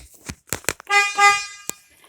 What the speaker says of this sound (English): you already heard the air horn